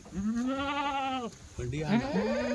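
A goat bleats twice nearby, a long wavering cry and then a shorter one, clear against a quiet background.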